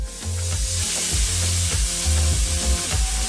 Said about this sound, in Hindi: हम इसे एक तरफ नमक लगाएंगे, काली मिर्च और गरम ग्रिल पर भेज देंगे।